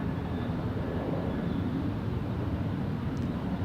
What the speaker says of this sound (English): This airplane is taking off to Fresno,